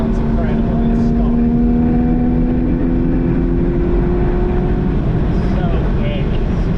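A 2016 Porsche Boxster Spyder engine revs loud and close, its steady roar holding rising tones as it climbs, while people talk over it.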